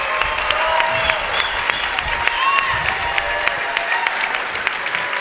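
Audience applause at a LevelUp Day event: dense, sustained clapping from a crowd, steady and fairly loud for the whole stretch.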